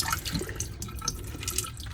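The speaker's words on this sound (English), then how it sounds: "And drain the water." Soaked black beans being drained, with a close, steady trickle and splash of water pouring off, faint dripping over a continuous wash.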